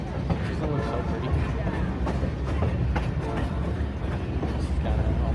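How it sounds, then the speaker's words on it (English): A tourist train rattles along the tracks in Leadville, Colorado, with continuous loud clickety-clack and metallic clunks, while people talk faintly over it. "the loud rattle of the train here"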